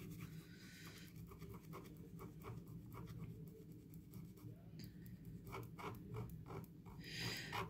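Special scratch-off cards are scraped with quick, repeated scratching strokes, a close, steady rasping rhythm over low background hum that throws off debris.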